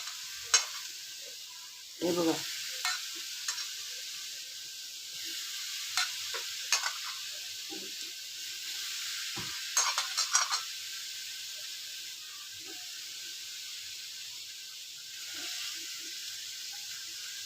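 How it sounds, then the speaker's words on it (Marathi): Sweet potato pieces hiss and sizzle as they are spread on a hot griddle, a steady close frying sizzle broken by clatters of stirring and scraping. A voice speaks briefly near the start. "आता ही रताळी आहेत ना, जे आपण तुकडे करून घेतले ते हे तव्यावर टाकायचे"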